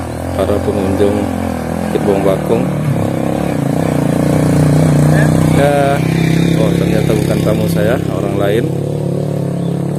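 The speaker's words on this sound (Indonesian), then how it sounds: "Nah, ini suara motornya nih." A motorcycle engine hums and revs on a misty hilltop road at Bukit Bawang Bakung in West Lampung, steady and moderately near, heard under someone talking throughout.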